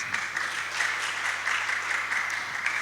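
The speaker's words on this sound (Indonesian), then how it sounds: "Tepuk tangan buat Tuhan Yesus." Steady applause fills a church during a Sunday worship service, a congregation clapping together, moderately loud and continuous with a faint electrical hum beneath.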